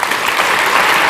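An audience claps together in a lecture hall, a brief burst of loud, dense applause heard close and without talk.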